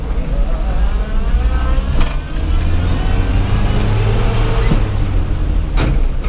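A 1970 Land Rover 88 Series II engine pulling away from inside the vehicle, a close, steady low rumble with occasional clunks from the drivetrain and a slight rise in pitch.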